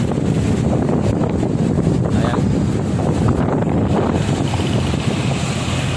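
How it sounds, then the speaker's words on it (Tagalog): Strong typhoon wind roars and buffets the microphone steadily throughout, a dense continuous rumble with a brief spoken word near the start. "Ayan, malakas yung hangin ngayon dito guys."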